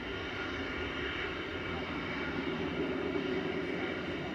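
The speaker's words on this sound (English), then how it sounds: "Takeoff and landing from Ryanair, there was one of each." A Ryanair airliner taking off or landing at Manchester Airport gives a steady, broad jet roar that holds level throughout, with a voice talking over it.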